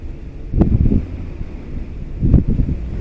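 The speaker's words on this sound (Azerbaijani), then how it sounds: "Biraz külək var." Wind buffets the microphone during an electric scooter ride along an outdoor road, as a steady low rumble with two stronger gusts swelling a few seconds apart.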